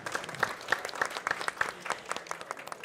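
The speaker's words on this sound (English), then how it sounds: "please help me giving our audience a big applause" Fairly quiet audience applause at the close of a panel discussion on keeping communities cool, with distinct hand claps in a loose, uneven rhythm from a modest crowd.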